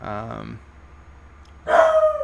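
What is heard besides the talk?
dog Sassy barking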